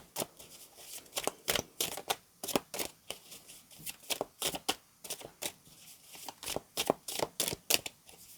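Tarot cards being shuffled by hand during a reading, a steady run of crisp riffling bursts and soft slaps repeating roughly every half second, close and clear with no talking.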